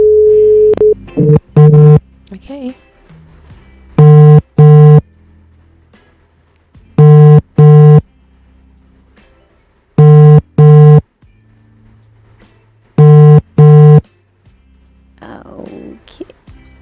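A telephone line rings with repeated paired electronic ringing bursts, loud and evenly spaced over a phone call, with a brief spoken word near the beginning.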